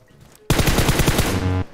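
Rapid automatic gunfire from PUBG Mobile gameplay, a loud dense burst of shots lasting just over a second, starting abruptly and cutting off.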